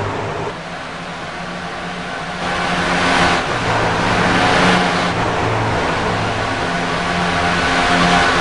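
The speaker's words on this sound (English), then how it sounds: "As the cars come by our speed cam on the front stretch, you get just a little sense of how fast this track is" Race cars roar past on the front stretch at Michigan during a P.A.D.D. season opener, a loud, steady wash of engine noise that swells as the pack goes by, with no voices.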